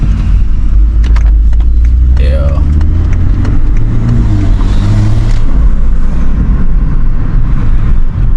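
BMW B58 engine with an aftermarket 5-inch downpipe exhaust, idling and revving loudly up close with a heavy low-end drone, while someone talks over it.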